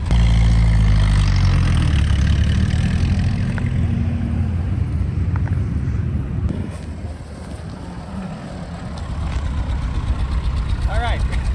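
A 1942 Jeep Willys engine runs steadily on a test drive in a sand pit, a low continuous rumble with heavy wind buffeting the microphone throughout, loudest at the start and easing slightly midway.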